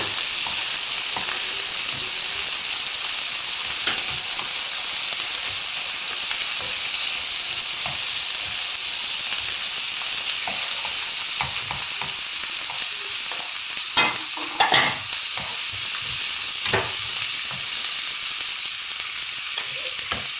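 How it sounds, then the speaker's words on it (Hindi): Spring onion whites are stir-fried for chicken manchurian in a loud, steady hot-oil sizzle lasting about twenty seconds, with occasional scrapes and clatters of the utensil against the pan. "इसको स्टर फ्राई करेंगे।"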